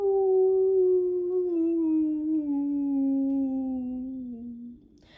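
One long, clear dog howl sliding slowly downward in pitch and holding for about five seconds before trailing off, heard alone and close.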